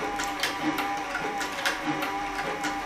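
A Cowboy CB3200 leather sewing machine, a saddle and harness stitcher, runs white thread through a leather belt with a steady, even mechanical chatter and rhythmic thumping of the needle, close and moderately loud.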